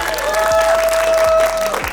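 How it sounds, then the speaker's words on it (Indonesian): An event audience gives a short burst of dense, steady clapping that fills the moment at close range, with a faint sustained tone running underneath. "Tepuk tangan."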